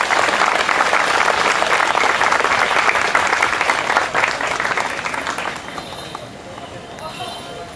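A concert audience at Tiehua Village claps to welcome a singer onto the stage, a dense, loud wave of applause that holds for several seconds and then gradually thins and fades.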